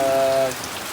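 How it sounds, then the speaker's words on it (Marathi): Early June rain falls steadily in a dense, close patter on surfaces, with a faint tone fading out in the first half. "आता पावसाने सुरुवात केली आहे"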